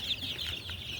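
Ducks kept for egg laying on a farm give steady, close, overlapping honking quacks and clucks that run continuously without a break.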